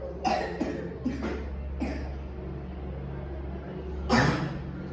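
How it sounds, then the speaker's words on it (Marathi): A child with a bad cough and cold coughs in a series of sharp bursts, several close together and then one louder cough after a pause, heard near and clear. "खोकला खूप आहे आणि सर्दी पण आहे जरा थोडीशी"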